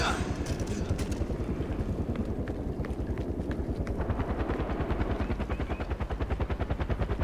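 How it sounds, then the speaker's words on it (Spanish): A helicopter in Far Cry 4 gives a steady, loud rotor thump with a rapid rhythmic chop throughout, mixed with bursts of gunfire and battle noise. "Vale, helicóptero."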